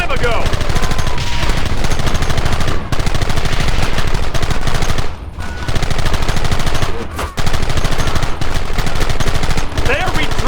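Gunfire in Red Dead Redemption, loud dense bursts of rapid shots from several weapons during a firefight, nearly continuous with a few brief lulls, close and harsh throughout.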